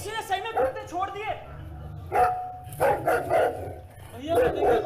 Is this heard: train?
no